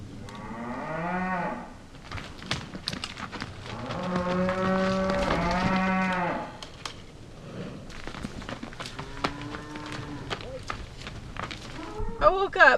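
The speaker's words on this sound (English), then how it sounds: "I woke up and there was a herd of cattle in the camp" A herd of cattle passing through a campsite in the canyon country of the American West, with repeated loud, drawn-out moos from several animals, some close and some farther off, along with scattered footsteps and rustling.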